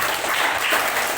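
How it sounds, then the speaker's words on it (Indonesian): Children at an Islamic Quran school (TPA) clap together in a steady, dense burst of applause that fills the whole short moment. No voices can be heard over it. "Oke, tepuk tangan dulu dong."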